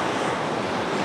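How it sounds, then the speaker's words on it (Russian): A strong storm wind and surf on the central beach at Anapa, a loud, continuous roar of waves mixed with wind buffeting the microphone. "тем ощутимее становится ветер"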